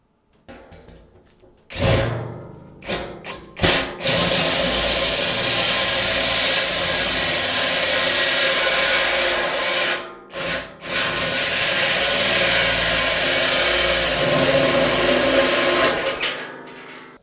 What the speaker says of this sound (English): This is a 32mm hole cutter, and I've brought it down.